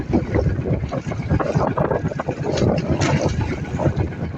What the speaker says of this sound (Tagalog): Medyo maalon talaga yung amihan.